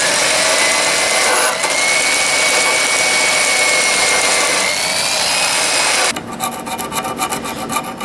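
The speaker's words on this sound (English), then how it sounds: "I'm just going through with a very fine file and just breaking up some of this tough stuff" A very fine file rasps across the rusty surface of a Japanese chisel, producing a loud, steady, close scraping that runs continuously and breaks into choppier strokes near the end.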